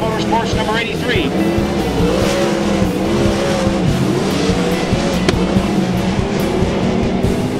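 The Roth Motorsports number 83 race car roars around a dirt-oval racetrack with a loud, continuous engine drone and rising and falling revs. An announcer calls the heat race over the engine noise.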